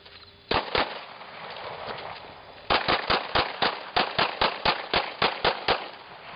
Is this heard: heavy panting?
no